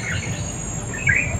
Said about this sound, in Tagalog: Grabe yung mga ng mga ibon mga kaibigan.